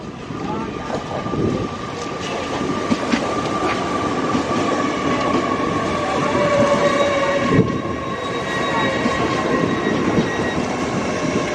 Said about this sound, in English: we've got one loco here, that's not bad at all